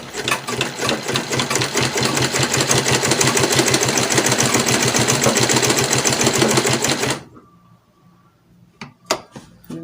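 A sewing machine stitches an off-shoulder bustier: a loud, steady rapid mechanical rattle runs for about seven seconds, then stops abruptly, followed by a few faint handling clicks and thumps.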